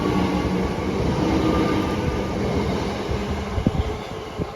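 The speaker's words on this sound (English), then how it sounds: "That was the Class 376 Metro Electrostar, the middle child of Southeastern's Metro fleet" Class 376 Metro Electrostar electric train arriving at Elmstead Woods station, a loud continuous rumble of wheels and motors with a few clunks over rail joints near the end.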